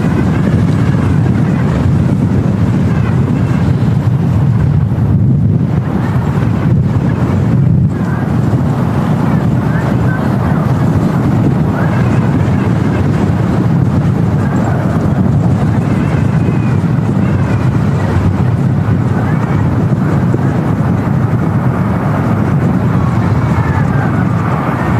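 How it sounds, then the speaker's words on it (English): A SunExpress Airbus A320 lands at Manchester Airport in storm-force crosswinds, its jet roar heard under heavy, buffeting wind noise on the microphone throughout. "next arrival, Sun Express Airbus coming in"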